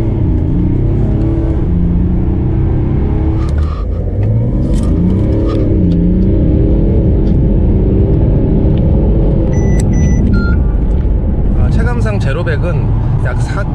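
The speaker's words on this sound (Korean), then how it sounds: "자, 가속감이 얼마나 될지 한번 테스트 해볼게요" A Mercedes-Benz CLS 400d AMG Line with the OM656 diesel engine pulls away hard from a stop, its deep engine rumble building steadily from inside the cabin while a person talks over it.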